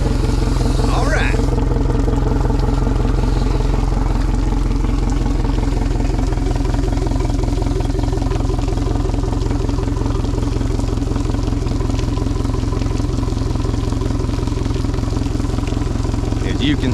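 An outboard motor idles steadily during a freshwater flush at operating temperature, a loud, continuous rattling drone with no pauses.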